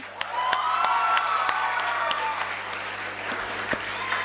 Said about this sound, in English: a huge round of applause for the batch of 2079